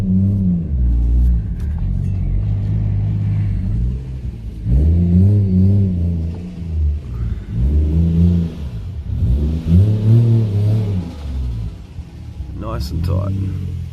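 A car engine idles low and steady, then revs and rumbles in several swells as the car creeps into a tight home garage, close and loud, with a brief higher clatter near the end.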